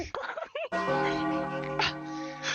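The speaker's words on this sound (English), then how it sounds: "somebody is messing with the clock tower bell" A clock tower bell rings in the VRChat game, its sustained, resonant tone sounding loud and steady right after a burst of hurried voices.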